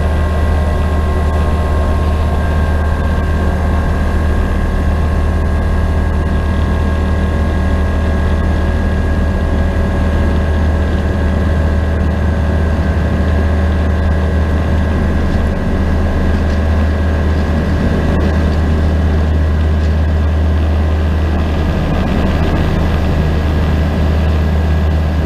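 Steady drone of a light aircraft engine at takeoff power from Kjeller airfield, runway 30, loud and continuous for the whole stretch with a constant hum and no talk over it.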